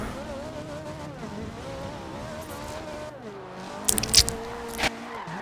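A racing car in Forza Horizon 2 drifts, its engine droning and shifting pitch, then sharp tire squeals and skidding screeches burst out near the end of the clip.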